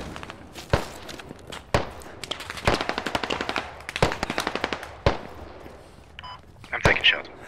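Gunfire in the video game Squad: rapid automatic bursts and single sharp shots, loud and close, repeating in clusters over several seconds, with brief voices and movement between volleys.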